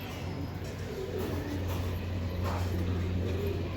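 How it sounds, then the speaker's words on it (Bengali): A pair of chocolate racing pigeons coo low and steadily, their soft repeated calls close by over a faint background hum. "খুবই সুন্দর এক জোড়া কবুতর চকো"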